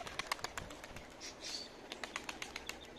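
A female pigeon, last year's young hen, lifts off with a burst of flapping wings, then scattered short taps and flutters follow, moderately close against a quiet outdoor background.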